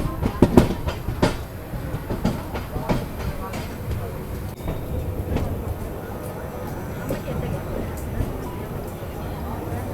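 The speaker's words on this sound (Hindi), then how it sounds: "तो फाइनली भी अपनी ट्रेन पहुंच चुकी है अयोध्या धाम जंक्शन रेलवे स्टेशन" The Kaifiyaat Express pulls into Ayodhya Dham Junction with continuous rumbling and sharp rail clatter from the wheels, sharpest early on and then settling into a steady roll, while voices talk over it.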